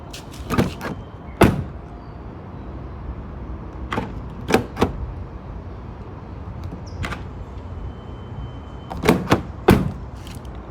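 The rear door of a 2022 Porsche Cayenne in metallic blue is worked repeatedly, giving a series of sharp, close latch clicks and thumps spaced irregularly over quiet background.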